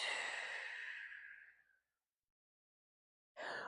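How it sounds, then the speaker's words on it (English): A long, deep exhale during a Pilates breathing exercise, loud and close, fading out over nearly two seconds, followed by silence and the start of another breath. "Big breath in. Big breath out."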